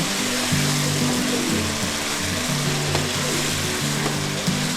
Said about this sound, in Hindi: भूनना है, अच्छे तरीके से भूनना है।